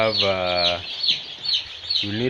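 Day-old broiler chicks in a brooder give a steady run of high, close peeping chirps that stay level throughout, with a low harmonic call breaking in at the start and again near the end.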